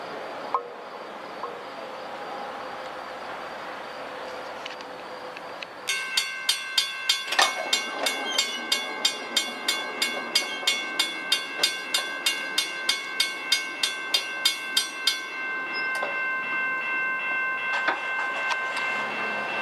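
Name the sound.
New York and Atlantic freight train passing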